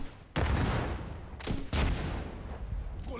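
Heavy gunfire in the video game The Division 2, with loud sharp volleys cracking in dense bursts and a second barrage striking midway, with no talk over it.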